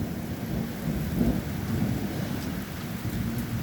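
A nighttime thunderstorm brings steady rain with low rolling thunder, a constant close wash of rainfall and deep rumbles with no one talking.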